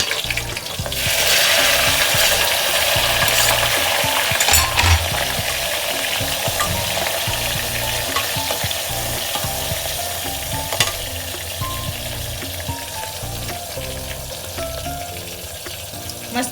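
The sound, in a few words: mustard seeds, onion and tomato frying in pan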